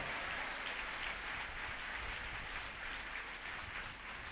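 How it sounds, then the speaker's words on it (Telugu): A church congregation claps loudly together in praise during a service, a dense, steady wash of applause filling the room from start to finish with no pauses. "గట్టిగా చప్పట్లు కొట్టి ప్రభువుని స్తుతించాలి"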